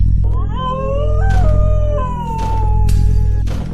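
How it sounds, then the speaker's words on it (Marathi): Long, wavering howls of dogs outside at night rise and fall in pitch, several voices overlapping over a steady low hum, loud and continuous. "अचानक तिला बाहेरून कुत्री रडत असल्याचा आवाज आला."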